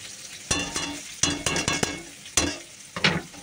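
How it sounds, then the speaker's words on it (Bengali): Chopped onion and grated ginger fry in a wok with a close, crackling sizzle, broken by several sharp scraping strokes and clinks of a spoon against the pan. "পেঁয়াজটা দিয়ে দিলাম, আদাটাও ঘষে দিয়ে দেবো, একটু ভাজা ভাজা করবো"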